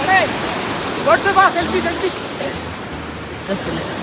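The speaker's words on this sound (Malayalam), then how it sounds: "നല്ല വെള്ളച്ചാട്ടം അല്ലേ?" A steady rush of a waterfall near Zakopane, Poland, fills the background while a person talks over it.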